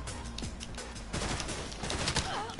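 Rapid video game gunfire crackles in dense bursts, loud and close, with overlapping shots and impacts throughout.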